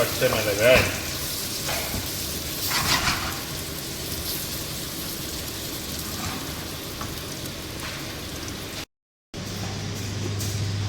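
Offal and green chilies sautéing in a pan for a Sri Lankan goat offal curry, a steady close sizzle with faint stirring scrapes and brief crackles, interrupted by a short gap near the end.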